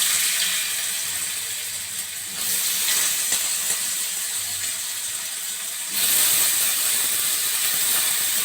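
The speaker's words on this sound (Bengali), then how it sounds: "ফোড়নটা আমার ভাজা হয়ে গেছে এবার আমি আলুটা দিয়ে দেবো" A steady, loud hiss of potatoes frying in hot oil with tempered spices fills the whole clip, swelling slightly at a couple of points, with no talking.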